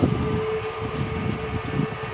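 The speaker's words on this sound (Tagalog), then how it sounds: "So the fan is running here." An electric fan motor fed by a gear-driven self-powered generator runs at 220–380 volts, giving a steady, continuous whirring drone with a high whine on top, close and even in level throughout.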